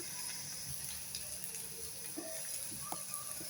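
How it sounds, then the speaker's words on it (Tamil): Tomatoes with ginger sautéing in a pan for a mint leaf chutney, a steady soft sizzle and hiss with faint scattered pops, low and close with no talking. "தக்காளி போட்டு கொஞ்சம் வதக்கிடுவோம். கொஞ்சம் வதங்கட்டும்."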